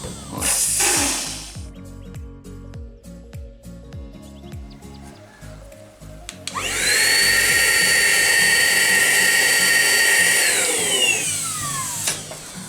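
Aspiring Gale 1 cordless car vacuum in blower mode switches on after a few soft handling clicks, giving a loud steady high-pitched motor whine that holds for several seconds, then winds down near the end.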